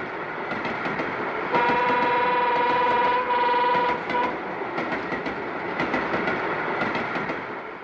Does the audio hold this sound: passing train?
yes